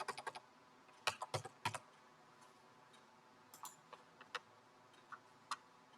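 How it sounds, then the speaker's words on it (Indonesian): Computer keyboard keys are pressed in a quiet room, a handful of sharp, irregular clicks in small clusters with gaps between them. No one speaks. "klik Ctrl A kalau di keyboard ya"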